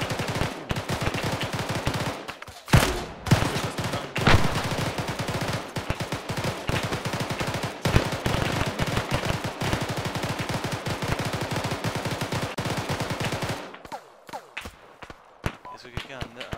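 Enemy gunfire in Arma 3 crackles in dense bursts of rapid shots, loud and continuous for most of the stretch before thinning to a few scattered reports, with players talking over the shooting.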